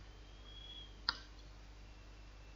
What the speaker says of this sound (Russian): Кликаю